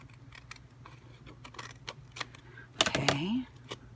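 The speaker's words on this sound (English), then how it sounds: "let's try to cut this straighter this time." Scissors cutting through a paper envelope to make a journal pocket, heard as a few close, sharp snips and crinkles building to a louder rustling cut near the end over a quiet background.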